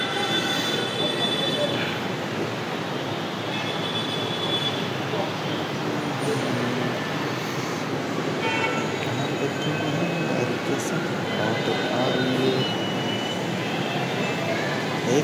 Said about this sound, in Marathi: बघा मेट्रो लागली परत रिटर्न जायला.